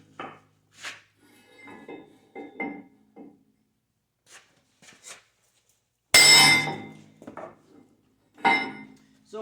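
Hammer blows driving a bushing into the bucket link bore of a Volvo L220 wheel loader, sharp metallic knocks scattered irregularly with pauses, one loud ringing strike standing out among quieter taps.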